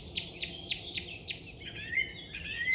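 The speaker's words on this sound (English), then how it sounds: "So we got the blackcap really going for it, and the song thrush as well" A blackcap and a song thrush sing in the May dawn chorus in Hembury woods, a row of sharp repeated notes followed by warbling phrases, clear but soft against a quiet woodland background.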